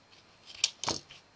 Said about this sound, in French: On découpe là.